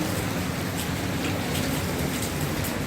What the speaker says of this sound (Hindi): कंटिन्यू बारिश चल रही है सुबह से।